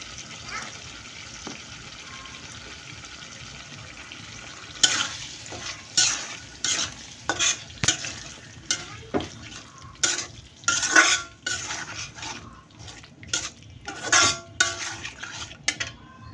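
Small cut pieces of meat sizzle softly in a pan for a while, then a spoon scrapes and stirs them in a quick, irregular run of clattering strokes against the metal, close and fairly loud.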